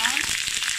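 Onions hit hot oil in a wok and crackle into a bright, steady sizzle, close and fairly loud for under a second.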